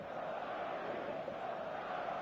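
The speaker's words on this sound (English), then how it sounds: "There's a real expectant buzz in the stadium" Expectant crowd buzz inside a football stadium on match day, a steady, dense roar of many distant voices with no single voice standing out.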